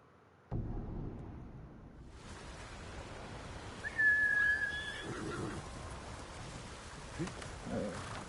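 A horse named Kage neighs in Ghost of Tsushima. A single clear whinny rises out of a low ambient bed, and a fainter second call comes later.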